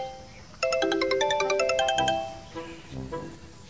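A mobile phone ringtone plays a bright, repeating melodic tune of quick chiming notes. It is clear and fairly loud and briefly pauses and resumes before fading near the end, with no voices over it.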